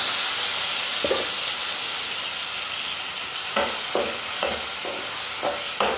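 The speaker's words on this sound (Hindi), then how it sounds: "तो इसको भून लेते हैं।" Ground tomato frying in spice masala in a kadai, a loud steady sizzle with several sharp stirring scrapes in the second half, no talking.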